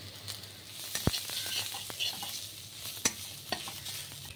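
Chopped garlic and ginger frying with browned onions in a pan, a soft continuous sizzle broken by sharp clinks and scrapes of a stirring spoon, close up and without voices.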